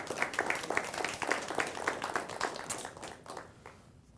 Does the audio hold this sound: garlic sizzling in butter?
no